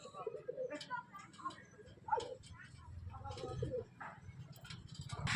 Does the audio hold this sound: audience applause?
no